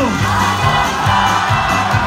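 A crowd yells mazel tov together at a celebration, loud massed shouting with rhythmic pulses of voices repeating across the moment.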